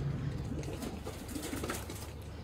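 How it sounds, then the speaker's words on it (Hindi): Sheikhan-breed pigeons coo softly and steadily, a low murmuring call that carries on alone with no talking. "सियालकोटी दोस्तों शेखां वाले कबूतर प्योर ब्लड है"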